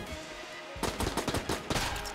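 Gunfire in the Enter the Gungeon video game: a rapid burst of punchy shots that starts after a short quiet lead-in and stays loud and close, with no voices over it.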